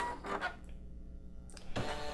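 An embroidery machine stitches a design, buzzing in short bursts with a mechanical whir that drops out to a near-silent pause before starting up again, close and moderately quiet.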